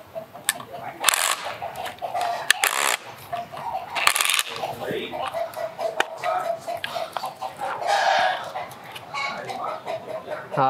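Fighting roosters at a game-fowl farm near Saigon cluck and call in scattered bursts, with sharp clatters and knocks mixed in, while someone talks over the birds.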